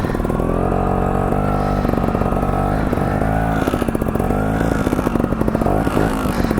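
A trials motorcycle engine runs close and loud, with a steady, popping idle and brief revs rising and falling throughout.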